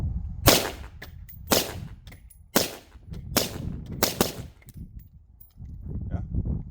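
A Colt 6920 rifle fitted with an OSS suppressor firing about six sharp, muffled reports at uneven intervals, close and loud over outdoor background noise.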